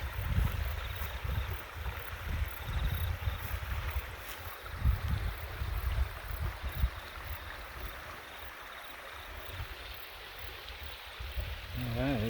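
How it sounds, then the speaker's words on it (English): A river beside a mountain hut campsite on an alpine hiking trail, a constant broadband rush of flowing water mixed with low wind buffeting, heard close and steady. "and the river right here"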